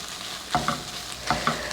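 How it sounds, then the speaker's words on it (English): Onions and vegetables for fajitas fry quietly in a pan, with a soft steady sizzle broken by two quick stirring scrapes, and no speech over it. "So I'm just going to saute this up nicely."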